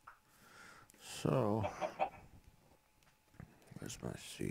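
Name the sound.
chicken clucking in the video game Minecraft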